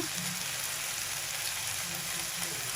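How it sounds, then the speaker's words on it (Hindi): Minced keema and salt are mixed in a hot pan, producing a soft, steady sizzle with faint low stirring scrapes, no voices. "इन चीज़ों को हम अच्छी तरीके से मिक्स करेंगे।"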